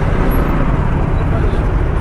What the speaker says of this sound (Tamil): ஹைதராபாத் ஃபுல்லாக டிராஃபிக்